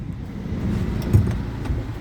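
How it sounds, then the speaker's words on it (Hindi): A car creeps forward in gear, giving a low, steady rumble with a brief soft knock midway through a couple of seconds, and no one speaks. "गाड़ी आगे बढ़ गई थी भाई, गाड़ी न्यूट्रल नहीं थी ना।"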